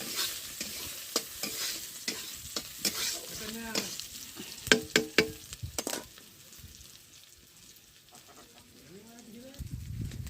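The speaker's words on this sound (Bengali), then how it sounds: "পেঁয়াজ লঙ্কাগুলো দিয়ে দিয়েছি কড়াইতে, হালকা ভাজা হয়ে যাক" Onions and green chillies fry in a wok, a steady soft sizzle running under repeated sharp scrapes and clacks of a stirring spoon against the pan, with a brief voice near the end.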